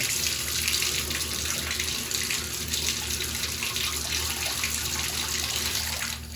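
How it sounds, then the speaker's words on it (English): Water runs steadily from a tap into a bathtub being filled with an inch or two of warm water, a continuous broad rushing splash heard close and alone with no talking. "I'm gonna fill up the bathtub to just have like an inch or two of warm or lukewarm water"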